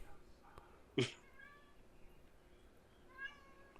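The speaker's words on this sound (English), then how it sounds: "Meow." A cat gives a couple of short, faint meows, with a sharp thump between them, over a quiet room background.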